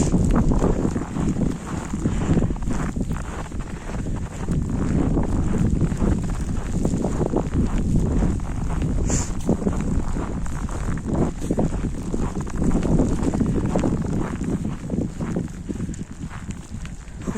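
A strong blizzard wind roars steadily through a frozen Moscow outdoor scene, a constant rough rush close to the microphone with faint footsteps mixed in.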